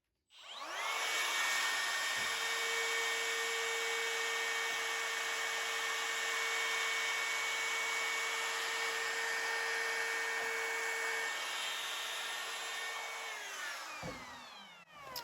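A router spinning a roundover bit through resin gives a steady, loud high-pitched whine with a constant tonal hum for about fourteen seconds, then spins down at the end.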